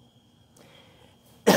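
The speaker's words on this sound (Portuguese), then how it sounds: "desculpa, eu tá tossindo, porque eu tô um pouquinho resfriada ainda" A single sharp, close cough from a woman with a lingering cold bursts out after a quiet stretch of faint background hum.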